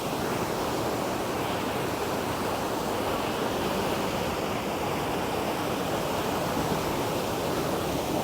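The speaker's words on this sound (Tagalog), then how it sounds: "Pangadilan Falls, guys, sobrang lakas ng agos" Pangadilan Falls pours down in a strong, steady rush of water, a loud, continuous roar that neither rises nor falls, with no voices over it.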